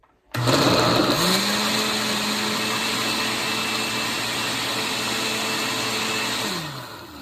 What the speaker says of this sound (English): So we blend the watermelon first, and then you step by step you have the other ingredients.